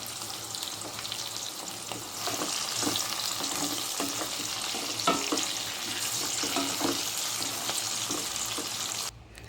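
Bitter gourd pieces frying in oil in a pan give a steady, dense sizzle and crackle that holds evenly for several seconds and then cuts off abruptly near the end, with no voices.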